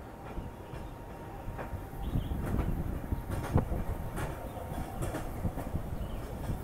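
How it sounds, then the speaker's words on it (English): A Hong Kong tram rolls past nearby with a rising rumble and rhythmic wheel clatter on the rails, rough steady noise lasting several seconds with no talking. "Here comes the tram."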